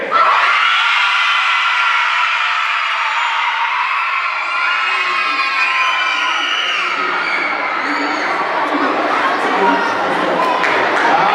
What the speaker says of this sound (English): When I call your school out, you yell real loud.